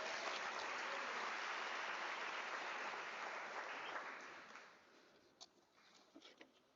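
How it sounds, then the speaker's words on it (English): Sustained applause from a large audience at a university graduation ceremony fills the hall, then fades out, leaving a few scattered claps and small noises. "A loud applause to all of you"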